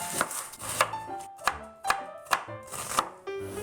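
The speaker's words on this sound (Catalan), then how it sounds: "Així que picarem una ceba" Knife chopping an onion on a board for a Catalan home-cooking recipe: eight or nine crisp, close cuts in a fairly even rhythm, with no talk.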